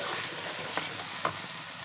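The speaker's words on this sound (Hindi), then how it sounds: "और अब हमने इसमें पाए डाल के भून लेना है।" Goat trotters (paya) frying in a pot give a steady close sizzle with two brief stirring scrapes, no voices.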